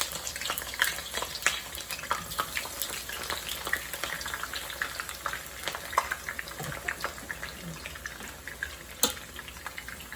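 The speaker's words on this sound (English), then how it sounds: "so my oil is hot already. I'm going to turn the heat to medium high. Okay, to medium. All right, and then fry my eggplant." Chinese eggplant frying in hot oil over medium heat for spicy Indonesian balado, a dense crackling sizzle with constant popping spatters, steady and close, no voices.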